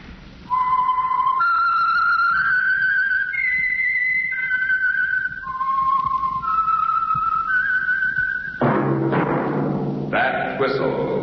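A lone human whistler performs the eerie, wavering melody that opens the 1947 radio mystery show The Whistler, with the notes sliding between pitches, then a burst of orchestral music comes in at the end.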